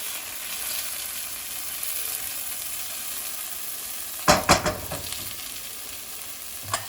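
Onions fry and brown in a pan with a soft, steady sizzle, then a few sharp utensil clatters and stirs come near the end.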